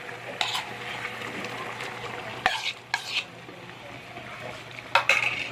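Eggplant stir-frying in a pan: a steady sizzle with scraping stirs and a few sharp clinks of a utensil against the pan, close by.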